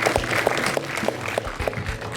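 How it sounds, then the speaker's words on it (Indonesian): A small audience claps briefly at a film launch press conference in Jakarta, scattered close handclaps forming a short round of applause without talk. "Jadi saya pengen tepuk tangannya dulu buat semua teman-teman yang berjalan bersama cerita ini."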